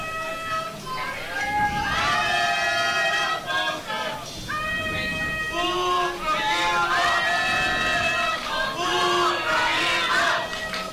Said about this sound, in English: Those teams have their respective fans in the crowd cheering